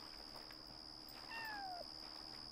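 A single short, falling cat meow from the video game Yonder, heard faintly over a steady high electronic tone and low background hum, with no talk.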